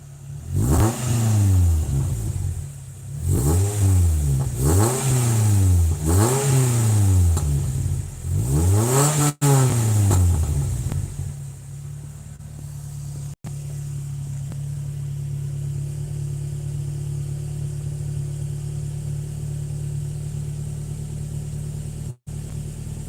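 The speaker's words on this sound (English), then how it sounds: "Let me see if I can just rev it." A car engine is revved hard about five times in quick succession, each rise and fall clearly sweeping. It then drops to a steady idle hum that continues for the rest of the clip.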